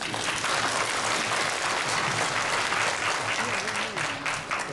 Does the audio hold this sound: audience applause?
yes